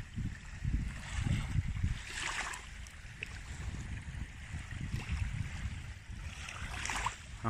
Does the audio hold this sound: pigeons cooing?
no